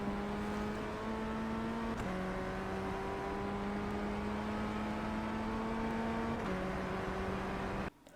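A Ray FF1600 race car engine in the iRacing game revs up with a rising buzzy whine, shifting up a few times as it pulls through gears, steady and loud until it cuts off abruptly at the end.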